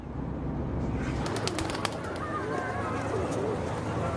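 Athenian pigeons coo softly in a steady low murmur outdoors, with a few sharp clicks or flutters and faint background noise.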